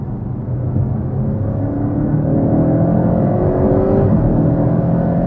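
A Porsche Cayman GTS engine accelerates steadily, its rising engine note climbing in pitch as the car pulls harder, loud and continuous with no talking.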